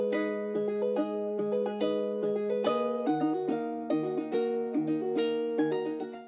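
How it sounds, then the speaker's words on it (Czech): A rendered synth melody for a rap beat, sped up to 143 bpm and pitched up half an octave, plays a bright repeating plucked pattern with layered tones, steady and loud, with no voices. "143 bpm a pitchnul jsem tu melodii o půl oktávy po tom, co jsem ji vyrenderoval, takže pak zněla takhle."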